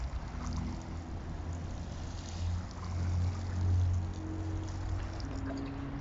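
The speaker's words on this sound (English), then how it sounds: "We just water it." Water is poured onto a potted plant, a steady splashing trickle with low gurgling that swells in the middle and then eases, close by and with no talking.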